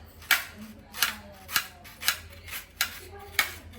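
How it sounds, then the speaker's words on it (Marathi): A knife finely chops onion on a board in sharp, evenly spaced strokes, about seven crisp cuts in under four seconds, close and fairly quiet. "मी असा बारीक बारीक एकदम कांदा कापून घेते"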